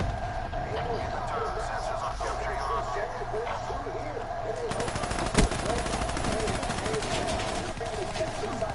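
Gunfire in Black Ops 3, with a steady rapid stream of shots running beneath a music track, a sharper loud burst partway through, and the firing going on near and continuous throughout.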